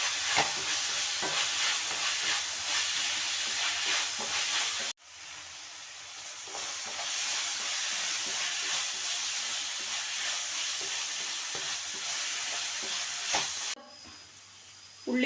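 Onions sauté in a pan for chicken biryani, giving a steady, fairly loud hiss of frying with light stirring taps, briefly cut off midway and then resuming more quietly.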